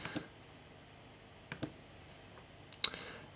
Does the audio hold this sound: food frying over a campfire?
no